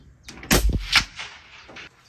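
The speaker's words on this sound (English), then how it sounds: "We then had you take a shot at bullseye at 100 yards" A single sharp shot from a Proof Research Elevation 6.5 Creedmoor rifle fired at a 100-yard bullseye, a loud crack with a short echoing tail fading over a second or so.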